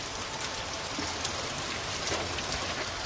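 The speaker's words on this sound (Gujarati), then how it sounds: "વરસાદ ચાલુ થઈ ગયો છે" Steady downpour on an open cotton field, a constant broad wash of rainfall noise at close range, unbroken and without speech.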